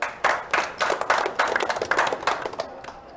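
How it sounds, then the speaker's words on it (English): Audience clapping at the introduction of a player at a poker tournament final table, a lively rhythmic patter of claps that starts quickly, holds steady, then fades toward the end with no talk over it. "Please give a round of applause to Nathan Blankenship"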